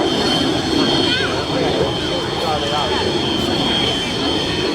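A two-seat propeller aircraft drones loudly and steadily overhead during a barrel roll at an air show, its engine note shifting slightly as it passes, with wind noise throughout.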